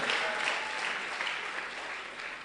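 A church congregation applauds with steady, dense clapping that fills the space at an even level from start to finish.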